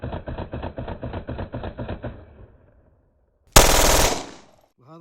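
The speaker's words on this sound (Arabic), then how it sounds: "وهذا هو صوت الوحش جلوك 18 سي معدل ضرب 1400 طلقة في الدقيقة." A Glock 18C pistol fires a rapid full-auto burst of about a dozen closely spaced shots at very high cyclic rate, followed after a pause by a single sharp loud blast that rings out and fades.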